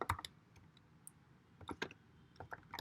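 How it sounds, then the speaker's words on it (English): Fingers type on a computer keyboard while entering text into a file during a Python coding session, giving quiet, irregular bursts of clicking keystrokes with short pauses between them. "Let me type few things over here"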